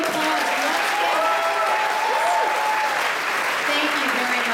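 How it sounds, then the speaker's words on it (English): Loud, sustained applause from a large crowd, continuous clapping throughout with a few voices calling out over it. "A big round of applause."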